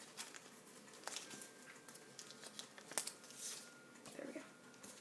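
Adhesive tape being peeled and pressed down onto a paper cloud rainbow craft, with soft crinkles and a few sharp short rips scattered through a quiet, close-up moment.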